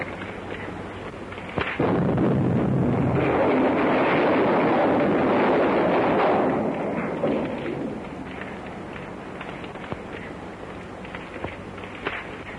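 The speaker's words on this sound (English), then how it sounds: "Quick, before that gas tank explodes." A heavy, roaring gas tank explosion swells up and rumbles on for several seconds, then fades to a low crackling drone.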